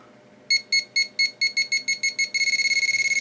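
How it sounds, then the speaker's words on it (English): A cheap $25 metal detector sounds its alarm when it is brought near metal. A series of shrill, evenly spaced beeps starts up, then speeds into a rapid continuous pulsing, loud and close. "as you can see, when you get close to metal, it goes off"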